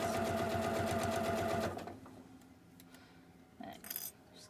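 A sewing machine stitches through three layers of fabric at a collar and collar stand, a rapid, even mechanical run for about a second and a half, then stops, followed by faint handling clinks.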